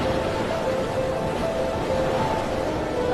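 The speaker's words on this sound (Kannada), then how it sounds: "ಅಲೆಗಳ ಸದ್ಮನು ಕೇಳ್ತಾ ಇದ್ರೆ ಜೋರಾಗಿ ಹಾಡಬೇಕು ಅನ್ಸುತ್ತೆ" Sea waves washing onto a beach make a steady, unbroken surf roar that stays even and close throughout, with no voices.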